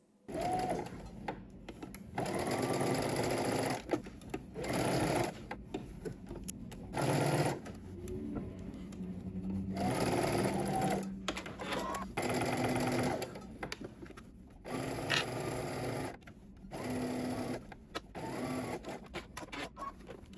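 Sewing machine stitching a 5/8 inch seam in garment fabric runs in rapid mechanical bursts separated by short pauses, close and steady.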